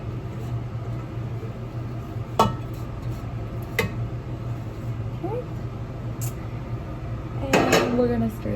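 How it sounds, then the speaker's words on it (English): Fruit for cranberry-apricot bars being stirred in a bowl, giving a few sharp utensil clinks against the bowl over a steady low background hum, with a cluster of scraping knocks near the end. "We're gonna stir this up."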